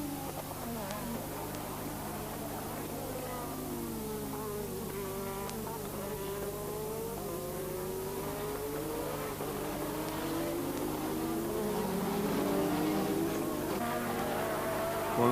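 Formula 1 cars from a 1986 race scream past with high, rising and falling engine whine, a steady loud roar of several cars at full power with a constant low hum beneath.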